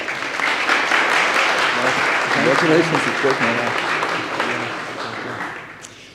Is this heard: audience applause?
yes